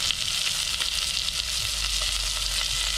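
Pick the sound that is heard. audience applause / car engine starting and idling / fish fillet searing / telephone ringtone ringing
fish fillet searing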